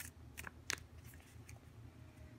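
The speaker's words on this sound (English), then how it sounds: "I like to shuffle a little bit more just so you guys can see and know that it's all real" Tarot cards shuffled by hand at close range, soft quiet riffles and a few sharper papery snaps over a faint background hiss, with no talking.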